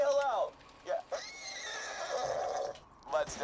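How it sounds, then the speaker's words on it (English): A horse neighs in the video game Borderlands 2, with a loud, shrill whinny at the start and another near the end, and a person talking in between. "It's a living horse that actually happens to be made of meat."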